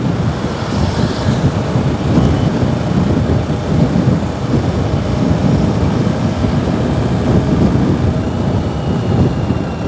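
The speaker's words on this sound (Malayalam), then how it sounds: "ചെറിയ മഴ പെയ്യുന്നുണ്ട്" A dense, steady wash of light rain noise, loud and continuous, with a low rumbling undertone and no voices, on the NH66 road near Cheranalloor, Ernakulam.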